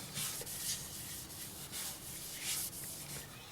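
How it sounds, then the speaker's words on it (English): A wood finish on a turning lathe is buffed at high speed, about 2000 RPM, producing a steady close friction rubbing with soft pulsing swells and no speech. "And I buff it at a high speed,"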